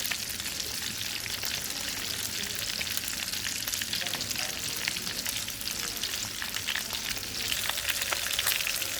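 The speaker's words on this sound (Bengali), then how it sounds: "তেল গরম হয়ে গেছে মাছগুলো দিয়ে দিব" Nola fish frying in hot oil gives a steady, dense sizzle and crackle that holds at an even level throughout, with no voices.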